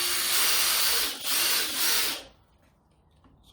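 A Kobalt XTR impact driver runs at high speed with a loud, close, high-pitched whir. Two quick dips in the whine break the run before it winds down and stops, leaving near silence.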